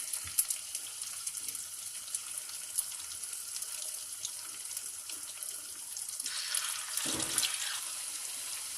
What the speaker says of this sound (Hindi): मीडियम फ्लेम पे आपको फ्राई करना है इसको।